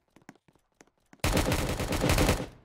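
After a few quiet clicks, sustained rapid gunfire erupts in a Roblox game, a loud, dense burst of automatic shots that continues for over a second before cutting off.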